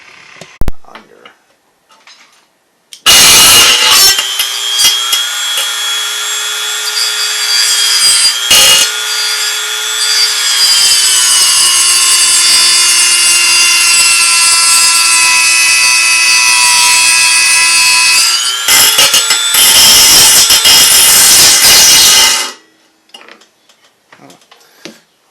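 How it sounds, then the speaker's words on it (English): A Dremel rotary tool cuts a slot in a part on a Murray mower with a 5HP Briggs engine, a loud steady high-pitched whine running for about twenty seconds, its pitch dipping slightly as it bites, with brief stops and clatter around it. "I'm going to get a Dremel and cut a slot in it."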